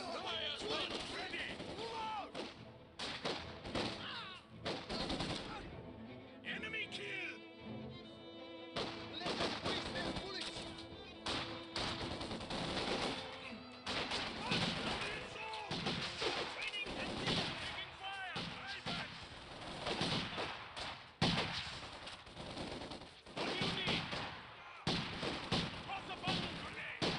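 Machine gun fire in the WWII strategy game Company of Heroes 2, sustained rattling bursts and scattered gunshots with distant artillery-like thuds throughout, under intermittent voices speaking.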